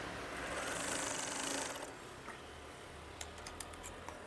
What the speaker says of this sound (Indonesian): Lipat saja seperti ini, kira-kira 2 jari atau 3 cm. Kemudian jahit saja.